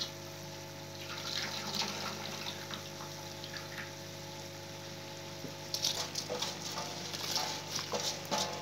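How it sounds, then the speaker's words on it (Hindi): Rice boiling in a pot of salted water in a home kitchen, a soft steady bubbling and simmer with scattered faint clinks and splashes near the end. "अब चावल मैं इसके अंदर डाल के बॉइल कर रही हूँ"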